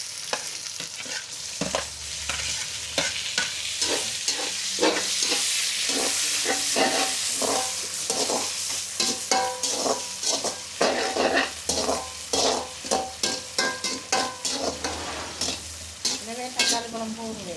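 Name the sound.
tomatoes frying and being stirred in a pan on a clay stove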